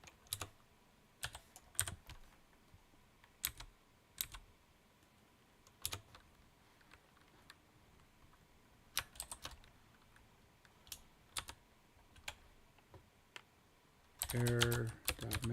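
Computer keyboard typing in short bursts of soft, close clicks with pauses between, ending in a louder clatter of rapid keystrokes.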